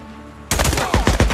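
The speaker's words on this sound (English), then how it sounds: "I'm shooting your bro in the leg." Rapid gunfire in the video game Days Gone erupts after brief quiet, a loud close burst of repeated shots with a couple of sharp peaks over about a second.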